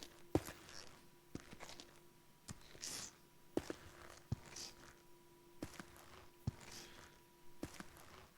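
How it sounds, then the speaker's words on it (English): Randomized footsteps from an Unreal Engine demo, walking along a spooky corridor: a steady series of soft, close steps roughly every second, quiet and alone with no talk. "these footsteps are all done with meta sound, so it's randomly choosing different footstep sounds from a selection that I've chosen for this"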